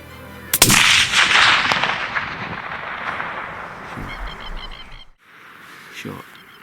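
A rifle shot during a red stag hunt in New Zealand: one loud, sharp crack near the start whose echo rolls off over several seconds, then quiet outdoor ambience as a voice begins to talk.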